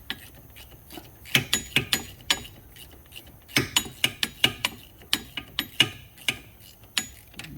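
A hand ratchet tightens wheel fasteners on a car, clicking in quick bursts of sharp, close ticks with short pauses between strokes.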